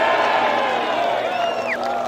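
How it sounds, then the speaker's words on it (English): Golf gallery at the Presidents Cup cheering and applauding after a putt, a broad sustained crowd roar with scattered whoops, heard at moderate distance throughout. "Nice cheer from the crowd."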